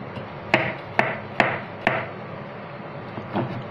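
A knife chops carrots, onions and spring onion on a cutting board in four sharp, evenly spaced thuds, followed by a pause and a couple of fainter taps.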